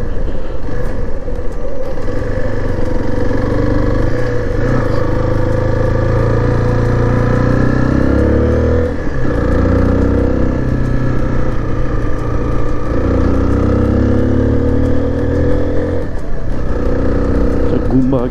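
Motorcycles idle and rev at a bikers' gathering spot near a temple in Kathmandu. A steady, nearby engine drone with occasional swells runs under continuous talking.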